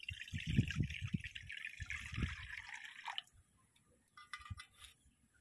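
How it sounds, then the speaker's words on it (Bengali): Water pours into a wok (kadai) for steaming in a splashy stream that lasts about three seconds, then cuts off, leaving a few faint drips and small knocks. "কড়ার মধ্যে পরিমাণ মতো জল দিয়ে দেব"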